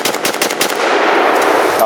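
An AK rifle fires a rapid string of loud, close gunshots in quick succession outdoors, followed by a lingering echoing ring as the burst stops.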